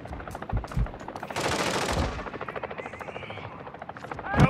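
Rapid automatic gunfire in the Call of Duty DMZ video game, with bursts of loud close shots and a sustained rattling volley, game radio chatter in the background.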